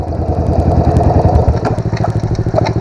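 A Pro Tork TR100F mini motorcycle engine runs close by, a loud, rapid, rhythmic putter at a steady idle that picks up slightly near the end.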